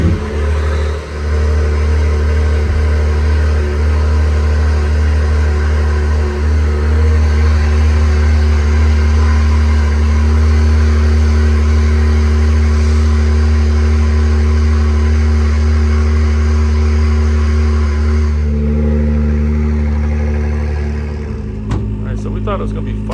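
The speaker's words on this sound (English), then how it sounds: "You can hear the NSX fired up in the background." An Acura NC1 NSX engine idling and revving in the background, a steady loud rumble that holds for most of the stretch before dropping off near the end, with a few sharp clicks as it fades.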